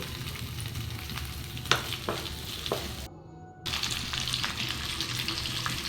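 Salted tandoori-style potato pieces sizzle steadily in a pan while being lightly stirred, with a few soft scraping knocks and a brief drop in the frying hiss partway through.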